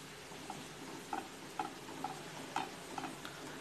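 A spoon stirs a milk mixture for an eggless, ovenless cake in a pan, making soft regular scraping ticks about twice a second over a faint low simmer, no talk.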